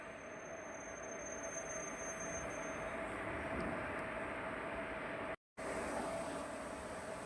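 The Bhuj to Rajkot special passenger train runs along the track with a steady, loud rumble and a faint whine, heard continuously from inside, broken by one very brief dropout.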